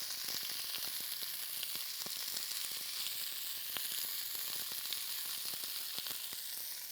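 Zucchini and other vegetables seasoned with salt and pepper sizzling steadily in a frying pan, a dense bright crackle with occasional soft scrapes as they are stirred.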